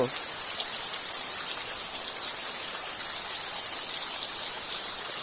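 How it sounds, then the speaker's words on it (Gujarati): Heavy monsoon rain falls steadily, a dense, continuous hiss of drops pattering on surfaces at even loudness throughout, with no voices. "જબ્બર દેવાળો વરસાદ હજી ચાલુ જ છે જો"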